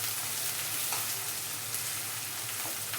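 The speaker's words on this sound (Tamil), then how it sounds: "வெங்காயம் நல்லா வதங்கணும்." Onions sautéing in a pan for siru keerai paruppu kadaiyal, a soft, even sizzle with faint crackles, steady and fairly quiet, with no speech.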